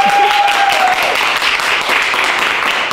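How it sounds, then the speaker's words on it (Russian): Dense, sustained applause from a studio audience clapping for themselves after a premiere performance, a steady wash of many hands filling the whole stretch, with a brief tonal whistle near the start. "давайте аплодировать сами себе"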